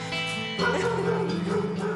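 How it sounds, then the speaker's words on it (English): Dogs barking and yipping in animal shelter kennels, a dense overlapping chorus from many dogs that swells after a moment, loud and echoing in an enclosed space. "The kennels. It's a lot of dogs."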